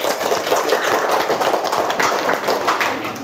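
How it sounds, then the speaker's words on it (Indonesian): An audience applauds after a classroom presentation, a dense steady patter of many hands clapping close and fairly loud, sustained for the whole stretch without speech. "Tepuk tangan."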